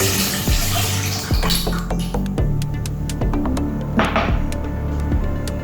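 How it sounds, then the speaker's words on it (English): Milk pours steadily into a saucepan, a continuous splashing wash with a few clinks of metal, fairly close and with no talking. "pour in the milk"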